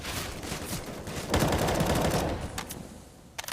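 Rapid automatic gunfire in Counter-Strike on the Overpass map, shooting through a wall, a sustained burst in the middle followed by a couple of sharp single shots near the end.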